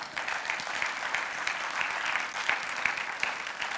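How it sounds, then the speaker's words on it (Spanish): A church congregation applauds during a sermon, steady dense clapping that holds at an even level throughout with no voices over it. "Denle un aplauso, Señor, por eso."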